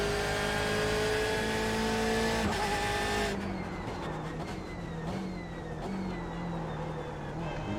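BMW M8 GTE race car in iRacing at Barcelona, its engine whining steadily at high revs before shifting down into a rougher, lower drone with a busier mix of noise and occasional faint talk underneath.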